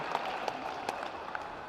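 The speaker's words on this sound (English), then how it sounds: "round of applause for his, ladies and gentlemen" Audience applause at a pasty crimping contest during the World Pasty Championships, a steady dense patter of many hands kept at moderate distance for a short burst, with faint voices mixed in.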